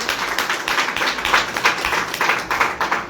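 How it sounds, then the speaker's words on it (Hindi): Audience at a corporate health and wellness session applauding together, a steady dense wash of clapping lasting several seconds at even loudness, with no speech over it. "एक बार जबरदस्त तालियां अपने लिए"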